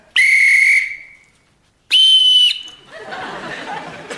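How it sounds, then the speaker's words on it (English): A whistle is blown twice, two loud sustained shrill blasts with a pause between, followed by low murmuring chatter. "Just learn to blow the whistle for the time being"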